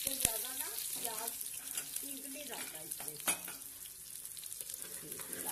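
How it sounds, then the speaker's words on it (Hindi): Chopped onion fries in crackling hot oil for a green bean dish, a steady close hiss of sizzling with occasional sharper pops and stirring clatter throughout. "जब ये कड़कड़ाने लगे तो उसके बाद आपने इसमें ये प्याज डाल देनी है"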